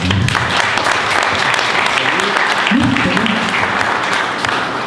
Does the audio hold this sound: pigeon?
no